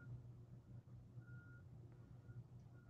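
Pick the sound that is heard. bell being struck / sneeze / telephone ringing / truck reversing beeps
truck reversing beeps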